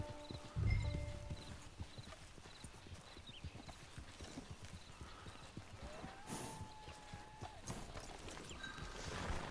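Horse hooves clip-clop at a steady walking rhythm in Red Dead Redemption 2, fairly close and moderately loud, with a brief louder thump near the start.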